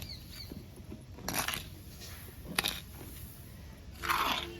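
Damp potting soil being mixed by hand for planting flowers, giving soft, faint crunching and gritty rustles in a few short bursts, with no talking.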